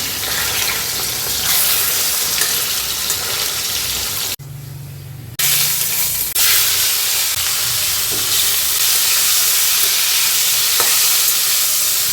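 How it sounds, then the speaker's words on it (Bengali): Food fries in a pan with a steady, loud sizzle that runs almost the whole time, broken by one short quiet gap before the hissing resumes. "আচ্ছা এটা তো একটুখানি ভাজা ভাজা হচ্ছে"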